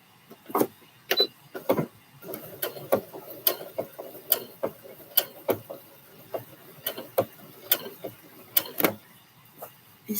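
A home sewing machine stitches a male scrub top, skipping stitches at times, giving irregular bursts of sharp mechanical clatter separated by brief pauses, fairly close and without talk.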